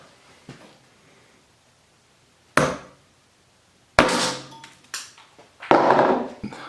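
A real steel hammer strikes a nail in a resin tool-casting workshop, giving three sharp, loud whacks spaced a second or so apart, each with a short ringing decay, after a faint tap near the start.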